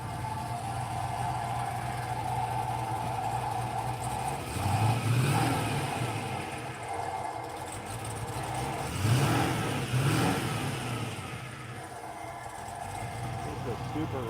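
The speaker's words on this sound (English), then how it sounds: "As soon as it gets a tiny bit warmer, I'll give it a little bit of throttle." A 1968 Triumph TR250 engine idles steadily while warming up, then revs twice in short rising bursts about four seconds apart before settling back, with someone talking over it.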